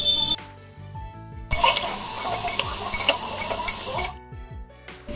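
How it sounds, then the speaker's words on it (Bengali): Turmeric and cumin powder are stirred in a frying pan, giving a sudden loud sizzle with scraping stirs that lasts a few seconds, then drops back to a quiet, humming background. "দিয়ে দিলাম অল্প পরিমাণে হলুদ গুঁড়ো আর জিরে গুঁড়ো, এরপর আড়া বাগার নেড়ে চেড়ে একটু কষিয়ে নেবো"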